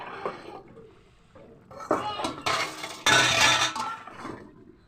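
A lid goes onto a cooking pot of leta fish curry with a few bright metallic clinks and clatters in quick bursts, loud and close between quieter stretches.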